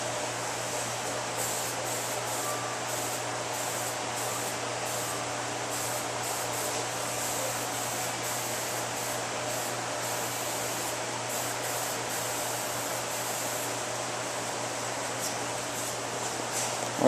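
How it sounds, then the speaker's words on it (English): A spray gun applies sealer under a car hood during front collision repair on a 2017 Toyota Camry: a continuous, even hiss with faint pulsing, steady and close for the whole stretch, no talk. "come back and spray some of the sealer underneath over this"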